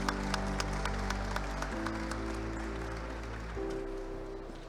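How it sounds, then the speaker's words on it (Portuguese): Scattered hand claps from a conference audience sound at a steady pace over sustained background music, moderate in volume. "Palmas, pessoal."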